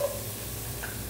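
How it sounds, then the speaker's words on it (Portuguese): Chopped onion frying in a spoonful of oil in a pot, the base for a chicken dish, gives off a steady, even hiss of sizzling with a faint clink near the end and no voices. "Agora vamos deixar dourar bem a cebola com o alho."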